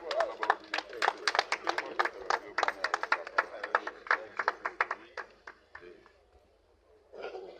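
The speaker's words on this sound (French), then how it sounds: "Elle s'approche sous vos applaudissements" Applause from a gathered crowd greets the medical director of Makala general referral hospital at a Kinshasa cataract and retina screening launch, a dense run of sharp claps that thins out and fades, then briefly resumes.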